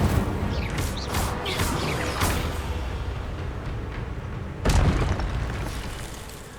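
The Incendio fire spell goes off in Hogwarts Legacy with booming bursts, a series of rumbling impacts and crackles, then a second heavy blast near the end that fades out.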